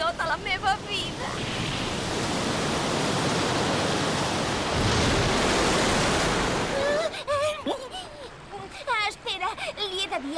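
Ocean surf on a beach in a Catalan-dubbed cartoon, a broad steady wash of breaking waves that swells and holds for several seconds, with voices talking before and after it.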